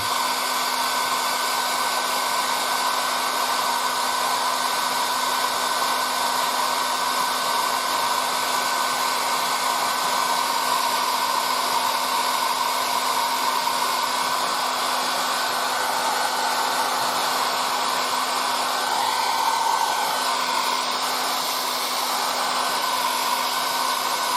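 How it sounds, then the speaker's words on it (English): A hair-dryer-style air dryer blows continuously to dry paint on a 1:35 Trumpeter KV-1 tank model, a loud, steady whooshing whine with a constant motor hum throughout. "now I'm going to use the air dryer"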